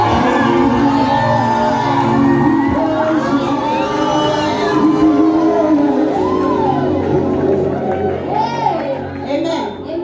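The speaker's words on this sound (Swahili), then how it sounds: "Tupatie Bwana makofi mazuri" A Full Gospel church congregation in Magomano, Juja, lets out loud, lively cheering, shouts and whoops for the Lord. Many voices, including children's, rise and fall together in a dense, close crowd noise.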